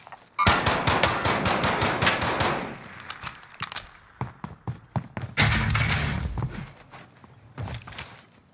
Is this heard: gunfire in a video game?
yes